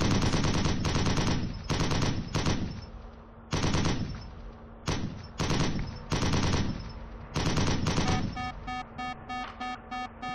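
Vehicle-mounted machine guns on an LSV Rhino in a driveable vehicle mod for a video game fire loud, rapid bursts separated by short gaps, ending in a run of quicker, evenly spaced staccato shots.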